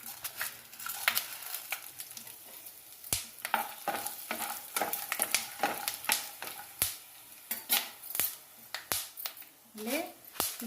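Chana dal and coriander seeds fry in oil in a pan for a radish chutney, giving a light sizzle broken by sharp pops and clicks of a spoon stirring, with a person speaking faintly at moments.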